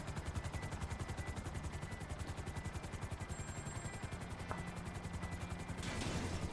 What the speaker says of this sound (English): I'll get out the helicopter.